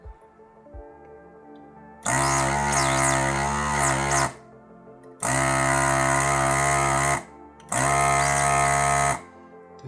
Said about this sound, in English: I can come in with the desoldering tool and just remove it